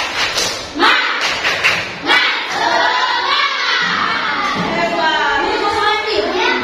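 A class performs a rhythmic spirit clap, a run of sharp hand claps in a steady pattern mixed with children's voices and chanting, loud and close.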